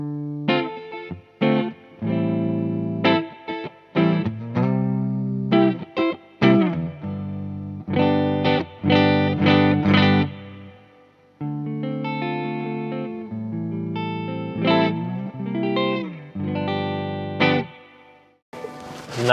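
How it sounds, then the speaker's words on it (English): Electric guitar played through a Vox AC30 C2X Blue Bulldog amp with reverb, strummed chords ringing out with a long reverb tail between phrases, loud and close, no talking. "Nice reverb, long tail."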